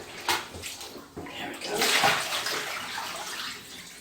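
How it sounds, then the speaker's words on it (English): Water splashes and sloshes in a bathtub as a zentai suit is rinsed, with a thump early on, then a fuller rush of running water that gradually eases, close by and without talking. "One more final rinse away, and we're going to hang this up."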